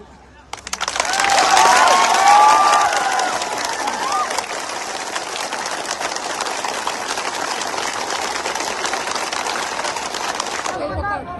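Crowd at a political party rally on Barkanda playground in Dhubri district claps and cheers, a sustained broad wash of applause that swells early, then holds steady and loud until it stops abruptly.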